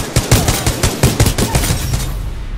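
A G2 gun in a video game fires rapidly, a loud, close burst of quick rattling shots in an uneven stutter that runs nearly unbroken for a couple of seconds.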